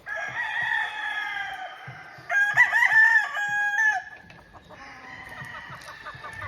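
Several gamefowl roosters crow loudly and one after another, each call long and drawn out, with hens clucking in between the crows.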